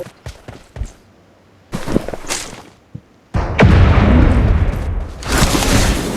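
A grenade-style bomb goes off in the mobile battle-royale game PUBG Mobile: a heavy, booming blast with a long rumbling tail, following a few scattered thumps and shorter bursts of gunfire-like noise.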